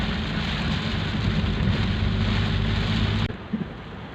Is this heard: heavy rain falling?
yes